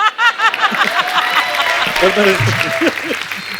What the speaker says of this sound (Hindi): जोरदार तालियां अनिल सर के लिए